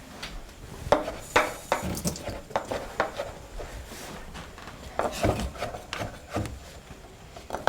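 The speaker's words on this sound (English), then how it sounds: "So I'm gonna chop like this thick." A knife chops food on a cutting board with irregular close knocks and short scraping strokes, some clusters of quick cuts and brief pauses between them.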